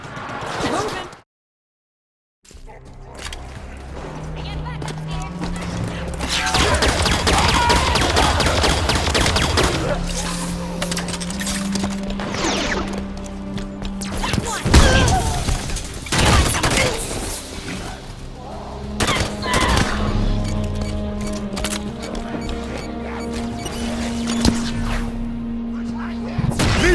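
Rapid bursts of gunfire and heavy thuds from the Halo 5 Guardians video game, loud and dense over several seconds with music and game voices underneath, after a short silent gap at the start.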